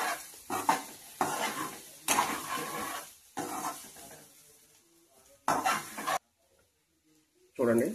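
Curry seasoned with turmeric and chili powder being stirred in a pan, bursts of spoon scraping against metal broken by short gaps, with someone speaking between the stirs.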